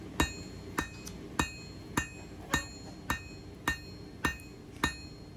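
A blacksmith hammers hot steel, drawing out a point for an awl, with nine evenly spaced ringing hammer blows at a steady rhythm, close and clear with no talk.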